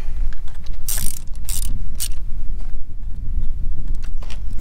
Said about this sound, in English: Snug them down.